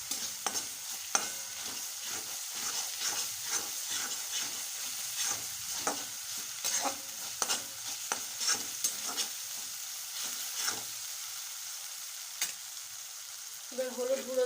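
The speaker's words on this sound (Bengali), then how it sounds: "এবার আদা রসুনের পেস্টটা দিয়ে দিচ্ছি। ভালো করে নেড়ে নিতে হবে।" Ginger garlic paste and onions are stirred in a frying pan, repeated scraping strokes of a spatula in a steady rhythm over a soft sizzle, close and fairly quiet, with no voices.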